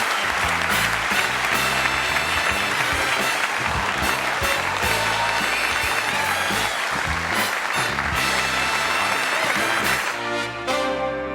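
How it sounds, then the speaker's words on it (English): A talk-show studio audience breaks into sustained, dense applause that stays loud and even for over ten seconds before tapering slightly at the close. "I'm humbled by that applause."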